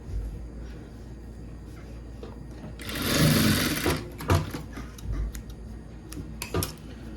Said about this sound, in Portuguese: Vou passar uma costura de meio centímetro aqui em cima.